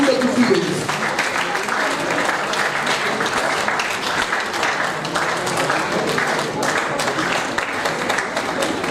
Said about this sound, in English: Can we please give a huge round of applause while they are releasing the proceedings?